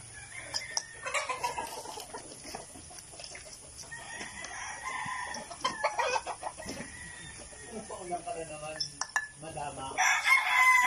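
Gamecock roosters kept for derby fighting crow and cluck at morning feeding time, with several overlapping calls, some near and some farther off, over a steady background hum.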